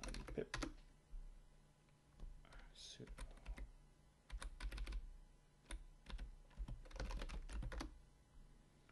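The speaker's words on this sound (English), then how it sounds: "Type out sudo apt-get install python pip." Keys clatter on a computer keyboard as a Linux install command is typed, coming in quick bursts of clicks separated by short pauses, close and fairly clear.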